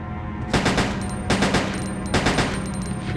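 Rapid bursts of automatic gunfire from Resident Evil Code Veronica X, three dense volleys about a second long each with brief gaps between, loud and close over a steady low game hum.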